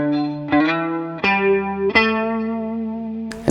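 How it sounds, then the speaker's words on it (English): Clean electric guitar with chorus and light drive plays a C pentatonic pattern, single notes picked one after another at a steady, unhurried pace, each sustaining clearly and close with no talking. "We're going to play a pentatonic pattern."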